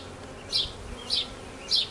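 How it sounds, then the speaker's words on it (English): Package honey bees buzz around their queen at a hive installation, a soft steady hum with three brief, brighter buzzes as individual bees pass close. "There's lots of buzzing bees on here, which is super neat."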